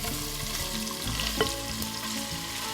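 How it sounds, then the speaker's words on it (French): Onions fry in hot oil in a saucepan with a continuous close sizzle and soft stirring scrapes, steady throughout with no talking. "Donc votre huile est bien chaude, on va verser les oignons."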